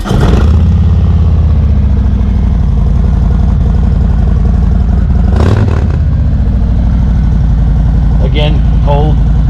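A 2019 Harley-Davidson Road King with 4-inch slip-on mufflers idles with a loud, low, steady rumble close by, and someone talks over it throughout.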